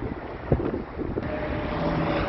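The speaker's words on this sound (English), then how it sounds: "It is kind of cold out here. Windy, huh?" Gusty wind buffeting the microphone outdoors, a rumbling roar with a few sharper thumps, steady and fairly loud throughout.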